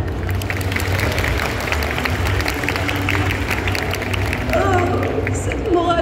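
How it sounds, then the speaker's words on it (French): An audience claps at a cosplay contest at the Paris Manga & Sci-Fi Show in October 2023, a continuous patter of many hands in a hall with crowd murmur, and a voice briefly rising near the end. "Regardez le public, il vous applaudit toujours comme avant."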